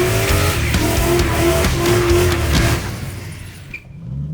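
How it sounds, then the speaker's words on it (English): A cheap V8 car doing a burnout, its engine revving hard with squealing, skidding tyres for a few seconds before the noise fades out, loud and close. "I don't really think it'll help if I do a burnout, but I'm going to do one anyway."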